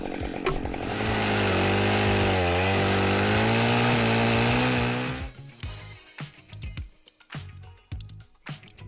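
Chainsaw felling a heavily leaning, crooked 90-foot pecan tree while a rope puller pulls it, the engine holding a loud, steady high-revving whine as it cuts, then dropping off into cracking, thudding crashes as the trunk falls.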